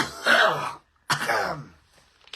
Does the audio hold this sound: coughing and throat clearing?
yes